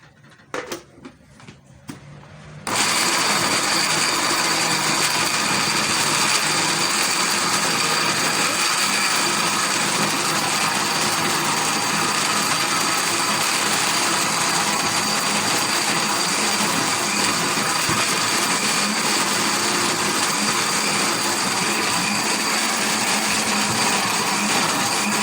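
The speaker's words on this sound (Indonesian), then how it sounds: "Sambil kita blender" A blender whirring garlic and chili with water starts up after a brief moment of quiet and runs loudly and steadily, close by, for the rest of the clip.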